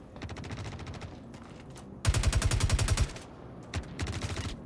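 Enemies trade automatic gunfire in a Star Citizen firefight, with rapid bursts of shots at a moderate distance, one louder and closer burst standing out partway through, and no talk over it.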